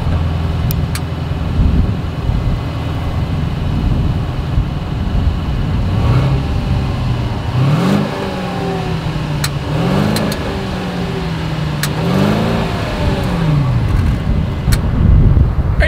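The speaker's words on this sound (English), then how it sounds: "As always, here is that exhaust clip." 2022 Mercedes-Benz S 580 with dual exhaust, its engine idling steadily and then revved several times in short rising pulls that settle back down, heard up close with no talking.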